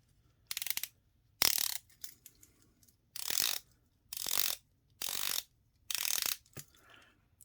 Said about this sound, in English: Now the bezel is 120 click, it rotates unidirectionally.